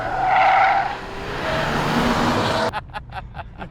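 A car on a gymkhana course drives a showy lap, its engine note and tire noise loud and close for most of the run, then cut abruptly into quieter broken bursts near the end.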